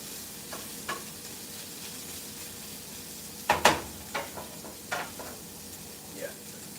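A burger and an over-easy egg frying in a pan, with a soft steady sizzle under a few sharp clinks and scrapes of a utensil stirring and knocking against the pan.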